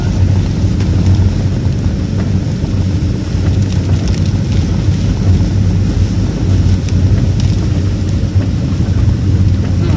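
Strong typhoon wind during Typhoon Ulysses in Pampanga, Philippines, roars steadily and loudly for the full stretch, a dense low rumble buffeting the microphone with no pauses and no voices.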